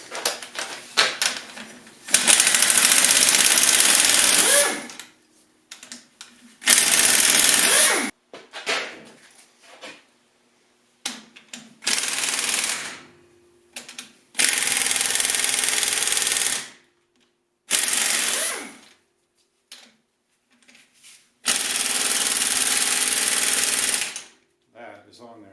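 An impact gun removes bolts from a Subaru EJ25 engine during disassembly, loud close buzzing hammering bursts of a few seconds each, repeated about seven times with quiet gaps, mechanical clicks and occasional talk in between.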